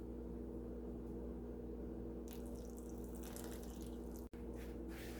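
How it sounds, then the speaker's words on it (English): Ice water poured into a flour and Crisco mixture for a sweet potato pie crust, a faint trickle over steady low hum, with a brighter splash of pouring near the middle before it tapers off. "Now I'm going to add the ice water and get that mixed in."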